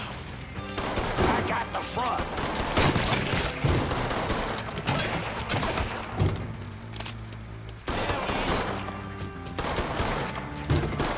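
Enemy gunfire rattles in rapid, dense bursts during a Mafia 3 shootout, loud and continuous with booming impacts, while a player talks briefly over the fighting.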